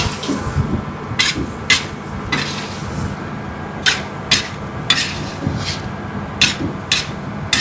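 A spoon repeatedly scrapes and knocks against a pan while masala is mixed into chicken perattu, giving sharp rhythmic clacks over a continuous low rumble of cooking.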